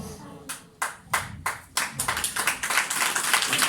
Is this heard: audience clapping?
yes